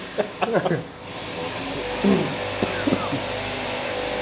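A lawn mower drones steadily in the background at moderate level, a low continuous engine hum under several bursts of nearby talk.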